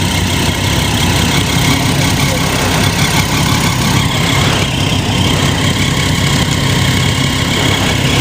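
A Triumph 675R motorcycle idles close by, its engine a steady, loud, unbroken rumble with a constant grainy texture throughout.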